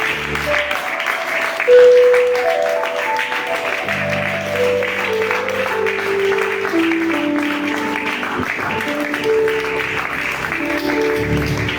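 A church congregation claps and cheers in a sustained wash of applause that runs throughout, with keyboard or organ notes playing over it.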